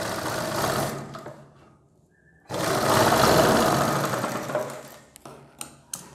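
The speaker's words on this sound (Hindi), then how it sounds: "इस तरीके से आपको इसके किनारे पे सिलाई लगानी होगी।" A sewing machine stitches along the edge of a kurti collar in two bursts, a short run and then a longer steady whirring pass, close up and fairly loud, with a brief pause between and a few clicks at the end.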